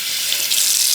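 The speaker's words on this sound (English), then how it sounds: "I am going to wash it in cold water just as I washed my 4x4 closure" A kitchen or bathroom tap runs steadily with cold water while a wig is washed, a bright, even hiss that lasts the whole second with no voices over it.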